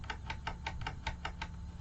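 A model railway point motor clicks repeatedly, about nine sharp, evenly spaced clicks in under two seconds, quiet and close over a low background hum.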